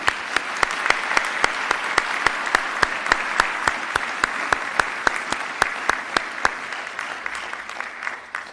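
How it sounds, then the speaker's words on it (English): Sustained audience applause at a medical college graduation convocation, a broad wash of clapping with a sharp, evenly spaced beat running through it, easing off slightly near the end. "Can we please give all of these people a round of applause?"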